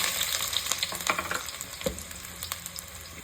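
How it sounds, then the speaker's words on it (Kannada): Chopped onion sizzling in hot oil and ghee, a steady crackling fry broken by sharper pops and the scrape of stirring, close and moderately loud with no talking. "ಎಣ್ಣೆ ಮತ್ತು ತುಪ್ಪ ಬಿಸಿಯಾಗಿದೆ. ಇದಕ್ಕೆ ನಾನು ಇವಾಗ ಏನು ಕಟ್ ಮಾಡಿ ಇಟ್ಕೊಂಡಿದ್ನೋ ಆ ಒಂದು ಆನಿಯನ್ನ ಹಾಕ್ಕೊಳ್ತಾ ಇದ್ದೀನಿ"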